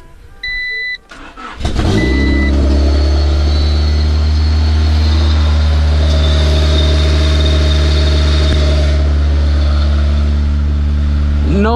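A Honda CRX chimes briefly, then its engine cranks and catches, settling into a steady, loud, close-up idle with a low rumble that carries on to the end.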